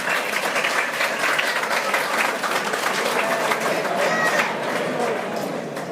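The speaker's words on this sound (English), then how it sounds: "Let's give Chris a round of applause." An audience breaks into dense, sustained applause for Chris, a steady wash of many hands clapping at full volume, with a few cheers mixed in and tapering slightly at the end.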